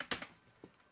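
Quick keystrokes on a computer keyboard, three faint close clicks in under a second against a quiet room.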